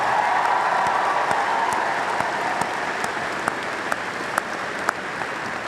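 A large crowd at a university welcome convocation applauds a marching band in a continuous, dense wash of clapping with a few sharper claps standing out.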